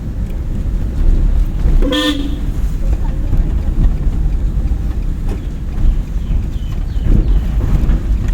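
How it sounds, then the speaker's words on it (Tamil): A single short car horn toot rings out over steady road and wind noise, with a voice speaking faintly in the background. "ஹார்ன் அடிச்சிருக்கோம்."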